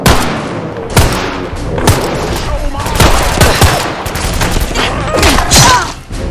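Rapid gunfire in the video game Fallout 4, loud close bursts and single shots with heavy thumps repeating across the clip, while a player talks intermittently over the shooting.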